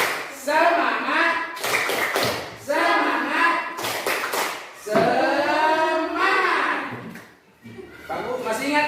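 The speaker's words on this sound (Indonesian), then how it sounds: "Tepuk semangat." Schoolchildren in a classroom clap a rhythmic cheer in short bursts, the claps mixed in with their loud chanting voices.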